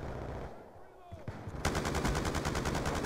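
Rapid automatic gunfire in Call of Duty: Black Ops 2 bursts in after a quieter stretch of scattered game sounds, the shots rattling in a fast, even, loud stream.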